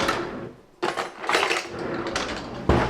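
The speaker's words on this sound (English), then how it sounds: "So I'm going to cut these." A knife cuts through avocados being prepared for a snack, giving a few close, sharp knocks and scraping cuts against a board or bowl, with quiet gaps between strokes and no talking.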